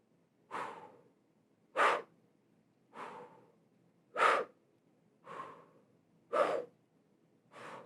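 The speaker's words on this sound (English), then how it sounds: "take a quick deep breath in" Quick deep breaths drawn in through the mouth during flute breathing practice, seven sharp airy inhales repeating at a steady rhythm about every 1.2 seconds, close and clear with quiet between them.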